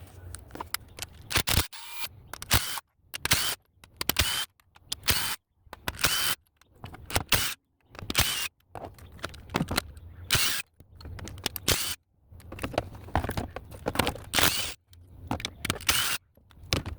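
Bolts being removed from the valve cover of a 2015 Chrysler 200 with the 3.6L engine, heard as a long run of sharp, rapid ratchet clicks in repeated bursts with short pauses between them, close and fairly loud, with no talking.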